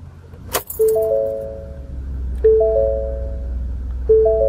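A truck dashboard warning chime sounds three times at startup, each a clear ascending three-note tone about every one and a half seconds, following a brief click and a low engine hum underneath.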